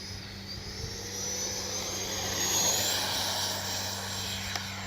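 A Freewing Zeus 90mm ducted-fan RC jet on 6S power screams through a pass, its high turbine-like whine rising and gliding in pitch as it swells louder and then eases, over outdoor background hum; no talking.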